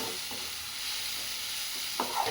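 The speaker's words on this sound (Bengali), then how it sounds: "ভালো করে এটাকে মিক্স করে নেবেন কিছুক্ষণ ফ্রাই করবেন যতক্ষণ না টমেটোগুলো ঠিকভাবে গলে যাচ্ছে" Tomatoes frying in a pan for chowmein give a steady close sizzle with a few brief stirring scrapes near the end.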